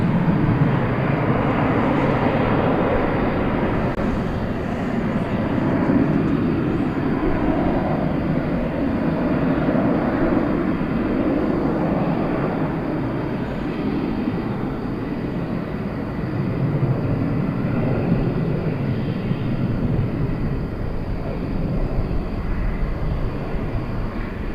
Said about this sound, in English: Here we've got an American Eaglet, 3391. It's going to Houston Hobby Airport.